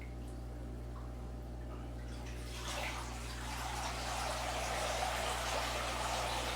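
Water starts pouring into a container that is filling slowly, a steady trickling rush that comes in partway through and holds over a low background hum, with no voices.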